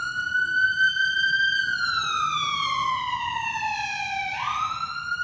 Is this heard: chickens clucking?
no